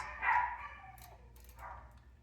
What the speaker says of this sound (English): Don't mind my dogs. They don't like it when I'm out here and they're still inside.